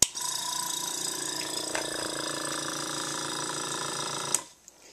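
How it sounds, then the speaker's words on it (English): An ABS No. 3 airbrush air compressor starts up and runs with a steady mechanical rattle and hum for about four seconds before cutting off abruptly, close by with no talking. "I'm using the ABS number 3, which is the air compressor. I'm just going to have to get it ready and turn it on here."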